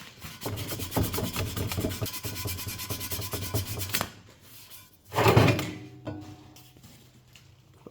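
Powder-coated paint on a repaired bike frame is scuffed under pressure, making a steady rasping rub for several seconds. It stops, then returns as one shorter, louder scraping burst, close up with no talk.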